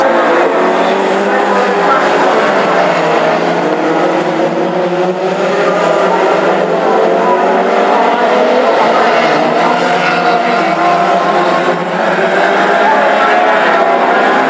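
Classic hot rod cars racing in a close pack on a Hednesford oval track during an English Open final, several engines roaring loudly and continuously with shifting pitch as they lap, no talk heard.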